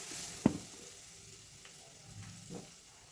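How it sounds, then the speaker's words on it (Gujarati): Ginger-chili paste sautés in hot oil with mustard seeds and cumin for a gathiya curry, giving a soft, quiet sizzle with one sharp utensil tap near the start and a faint stir later. "આદુ મરચાંની પેસ્ટ સતળાઈ ગઈ"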